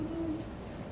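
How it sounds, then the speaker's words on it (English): A great horned owl gives a single low, mellow hoot near the start, heard alone over quiet background hiss. "This is a great horned owl. This is what I call the typical owl poster owl call."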